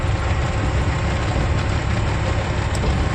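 A loaded truck on a long haul carrying bananas drones steadily with low engine rumble and broadband road noise, continuous and fairly loud, with no talk.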